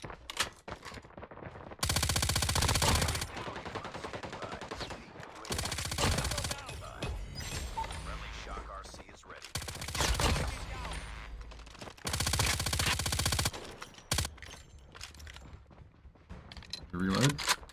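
Sustained bursts of automatic fire from an MG82 light machine gun in Call of Duty Mobile, loud and close, coming in several long strings separated by short pauses, with a voice speaking between and under the bursts.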